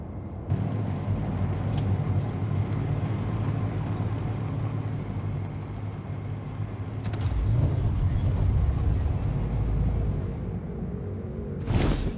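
Game vehicle engine and wheels revving up on a war machine, a steady loud mechanical hum and rumble that swells louder partway through and holds, with a brief sharp noise at the end.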